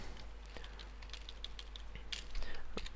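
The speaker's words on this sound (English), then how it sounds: "I'm a keyboard person, so I just prefer typing it in" Computer keyboard typing in a spreadsheet lesson, with quick irregular key clicks and taps, faint and close, and no voices present.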